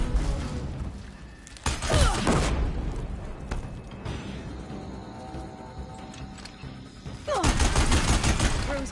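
Shadow gun fire in the game Horizon Zero Dawn: loud bursts of rapid shots with crackling, shattering impacts, two heavy volleys separated by a quieter stretch of rumbling combat noise.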